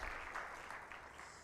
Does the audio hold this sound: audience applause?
yes